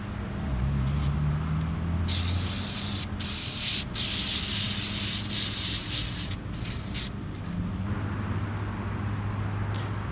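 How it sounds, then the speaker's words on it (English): Bursts of hissing spray as activator is sprayed over hydro dip film floating on water, a few separate blasts of a few seconds each, close and loud, with insects chirping steadily in the background. "Next is going to be spraying the activator over the film"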